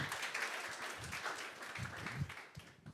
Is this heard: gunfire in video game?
no